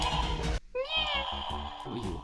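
A voice actor playing the card game Banken Gao Gao imitates a cat's meow: two drawn-out, pitch-bending mewing calls, close and fairly loud, following a brief burst of other vocal sound at the start.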